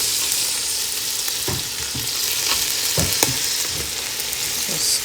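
Rice stir-fried in a cooking pot for Chinese fried rice: a close, steady sizzle broken by repeated scraping thumps of a spatula against the pot, several strokes over a few seconds.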